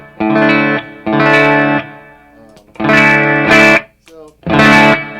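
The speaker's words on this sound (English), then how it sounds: "That's our plate reverb pedal" An electric guitar played through a Catalinbread Talisman plate reverb pedal rings out in several loud sustained chords, each left to bloom and decay in a smooth reverb tail between strums.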